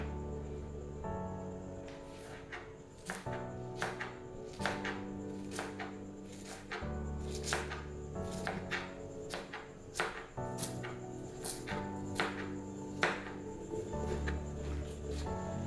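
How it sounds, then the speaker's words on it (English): A knife chops through an onion on a board in a home kitchen, giving a run of quick, close, sharp taps in an irregular rhythm over a steady low background hum, with no talking. "I'm told there are very many ways of cutting an onion"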